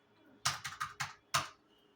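Fingers tap a computer keyboard while entering accounting figures, giving four quick clacking keystrokes in a row, a short pause, then one more, close and crisp against a quiet room.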